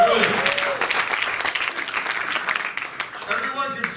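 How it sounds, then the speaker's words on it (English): Audience applause at a live motivational talk, a dense burst of clapping that starts loud and gradually thins and fades toward the end, with a few voices mixed in. "Give a round of applause."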